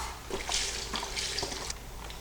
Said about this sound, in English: First thing that we're gonna add is the bone broth